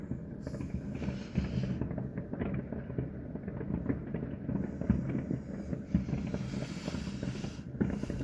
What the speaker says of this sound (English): There's just a stream of fireworks on the left.